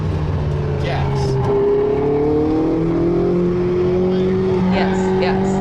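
A race car engine revving and accelerating through gear shifts in a racing game, rising whining pitch that drops and climbs again, loud and close with a voice talking over it.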